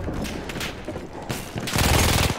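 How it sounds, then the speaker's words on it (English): MG15 machine gun fire in the Battlefield 1 game, dense rapid bursts with booming reports and mechanical clatter, loud and close, swelling into a heavier barrage near the end. "Takes a bit to get accurate with the MG15"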